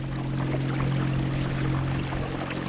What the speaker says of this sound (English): Throttle's all the way down now.